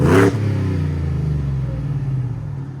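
A 725 hp supercharged Ford F-150 with a 5.0L V8 and Flowmaster Flow FX exhaust blips its throttle in one loud, close rev, then settles into a deep, rumbling burble as the revs fall away.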